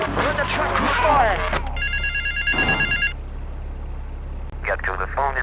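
A payphone rings in the video game Grand Theft Auto III, with an electronic trill heard as a few bursts amid game engine hum, while voices and a radio-style voice talk over parts of it.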